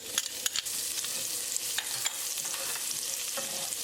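Garlic frying in reused oil in a pan for a salmon fish curry, a steady close sizzle broken by several sharp crackles and stirring scrapes, with no talking.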